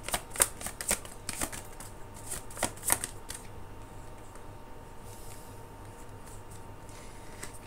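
Tarot cards being shuffled, a run of crisp riffling bursts in the first three seconds that fades to a quiet room hush, with no talking.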